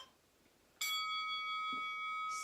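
A bell strikes suddenly and keeps ringing with long, steady overtones, loud and close, during a Pilates HIIT workout session, with a faint thump and a brief bright hiss near the end.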